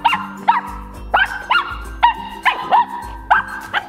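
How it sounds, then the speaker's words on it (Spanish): A pit bull barks and yips repeatedly at a very small dog in a quick, uneven rhythm, close and loud, with some whimpery high notes. "Le va ladrando al reloj."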